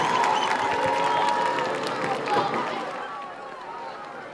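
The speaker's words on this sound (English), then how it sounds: "Let's give a warm round of applause for Jason Jordan Alvarez." A stadium crowd at a high school homecoming football game applauds and cheers, a dense roar of clapping and voices that stays loud, then eases slightly toward the end.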